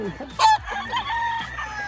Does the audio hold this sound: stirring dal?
no